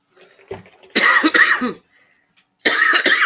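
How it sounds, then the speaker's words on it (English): Two bursts of harsh coughing separated by a short quiet gap, close and loud, with a faint thump before the first. "Sorry for coughing, guys."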